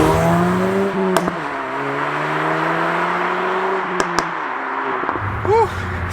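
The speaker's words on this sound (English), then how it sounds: "Ooh, that exhaust!" A Ford Focus ST exhaust drones steadily under acceleration, then a gear change brings a lower pitch and a brief sharp pop near the end, heard close up with a short exclamation.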